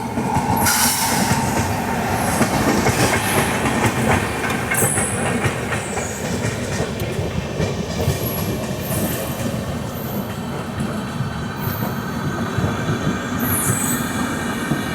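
The Gorakhpur LTT Kushinagar Superfast Express passes close by, loud and sustained, with heavy wheel rumble, rhythmic clickety-clack and high metallic squeals, and no talk.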